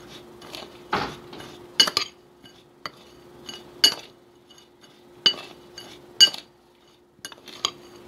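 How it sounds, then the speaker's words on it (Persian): A spoon stirs a gummy candy mixture in a glass, giving a steady run of light, bright clinks about once a second, close and fairly quiet, with no voices. "بعد با هم همش میدهیم."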